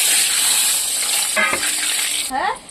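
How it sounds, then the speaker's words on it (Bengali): Boiled potato frying in oil left over from frying onions, a loud, close, steady sizzle with a brief scrape of stirring partway through and again near the end. "আমি সেদ্ধ আলুটা একটু ভেজে নেব পেঁয়াজ ভাজার তেলের মধ্যে"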